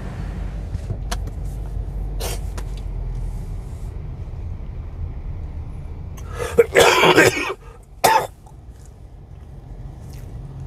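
A young child coughs in a short cluster of loud, close hacks followed by one more cough, heard against a quiet room hum with no talking.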